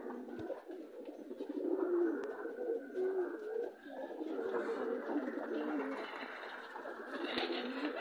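Pigeons coo steadily inside a loft that holds wild pigeons, their low, throaty calls overlapping and continuous across the whole stretch, fairly close and moderately loud, with faint rustling and a few soft chirps mixed in.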